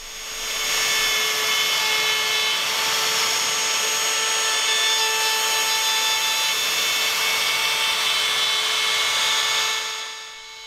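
Ryobi One+ 18V cordless router cutting wood on its first use, a loud, steady high-pitched whine that spins up, holds constant for about nine seconds and winds down at the end, with no voices.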